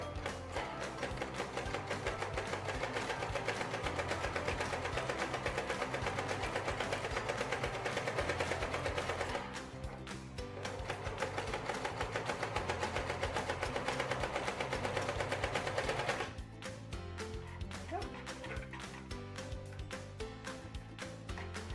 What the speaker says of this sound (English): So here we go, we went and sewed through, and I actually didn't really need to gather it. The machine kind of did it on its own.